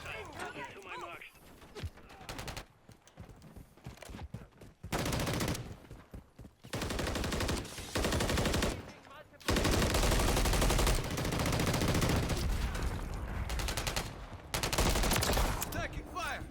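Heavy bursts of automatic gunfire in Modern Warfare 3 erupt in loud, choppy volleys separated by brief gaps, close and intense, with short spoken callouts between shots.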